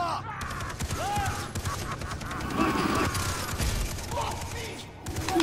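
Rapid mounted turret fire in Far Cry 3 co-op play, a steady rattling stream of shots running throughout with shifting intensity, mixed with mechanical clatter and voices talking over it.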